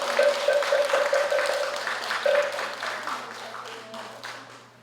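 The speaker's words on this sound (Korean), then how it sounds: "오늘 소중한 가르침 전해주신 큰 스님께 다시 한번 감사의 큰 박수 부탁드리겠습니다" An audience applauds a senior monk after a Buddhist teaching at a university staff end-of-semester dharma service, clapping steadily and fading out, with a faint tone and voices mixed in.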